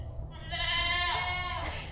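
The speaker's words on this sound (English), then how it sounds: "Bye, goats." Goats bleating on a farm, a single drawn-out wavering bleat rising loud and close, then tailing off with a second voice joining near the end.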